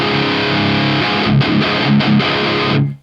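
An electric guitar played through a Marshall JVM205H amp on a high-gain, saturated setting. It plays thick distorted chords with a few quick palm-muted chugs, loud and close, and the final chord rings out before being cut off.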